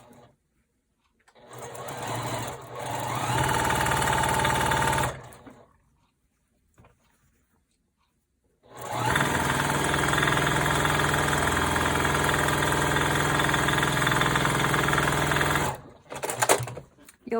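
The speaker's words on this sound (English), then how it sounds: "Then I'm going to sew all the way down that one." A sewing machine stitching pieces of quilt fabric together, with two close bursts of rapid, even stitching separated by a pause and a few short stops at the end.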